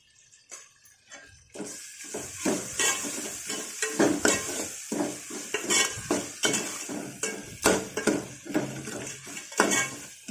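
Mango and vermicelli pulihora tempering fries in oil in a pan, with salt and turmeric added, a loud close sizzle broken by frequent metal spoon scrapes and clinks against the pan, with no voices.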